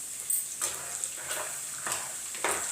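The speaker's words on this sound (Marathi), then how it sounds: "शेंगदाणे असे फटफट वाजले पाहिजे." Peanuts fry in hot oil for a fasting-day potato and sago dish, a steady low sizzle broken by several sharp crackles and stirring scrapes at regular intervals, close and moderately loud.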